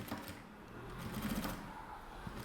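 A sewing machine stitches bias binding onto a toiletry kit, a quiet, steady mechanical whir running through the short stretch without pause, heard close but at low volume.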